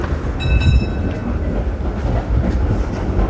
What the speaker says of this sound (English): We are about to ride this awesome old school tram in Brussels.